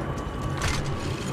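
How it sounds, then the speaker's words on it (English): A weapon being reloaded in Apex Legends Mobile, a brief mechanical clack and ratcheting click over steady game background. "Reloading."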